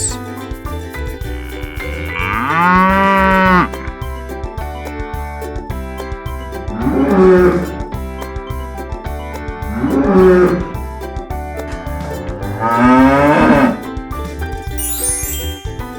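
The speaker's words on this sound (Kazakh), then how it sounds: "Үш сиыр." Four drawn-out cow moos rise and fall at regular intervals over a bright, tinkling musical backing.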